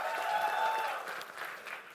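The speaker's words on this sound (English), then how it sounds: "it's a huge round of applause to, first of all of you guys for making it out over here" Audience applause at a HONOR X9b smartphone launch event, a steady wash of clapping from a crowd, fairly faint and distant, tapering slightly toward the end.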